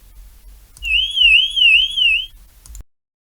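A BJE float switch alarm system siren wails loudly in an electronic warble for about two seconds, rising and falling in pitch, then cuts off abruptly into silence.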